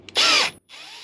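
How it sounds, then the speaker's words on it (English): A power drill bores out a hole in a Baja Designs LP6 light bracket, a loud high-pitched whine lasting about half a second, a brief pause, then a quieter second burst of drilling. "So what we're going to do is go ahead and drill this out."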